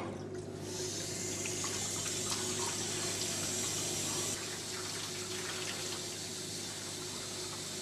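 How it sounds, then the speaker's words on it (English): Water runs steadily as the tanks of a Truvox Multiwash floor cleaner are rinsed, a continuous close splashing rush that eases slightly partway through, with no talking. "Empty both tanks and rinse thoroughly."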